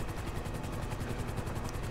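A rescue helicopter in GTA 5 on a Coast Guard hoist rescue training mission, a steady rapid rotor chop with a low thumping pulse, continuous and fairly close, no talk.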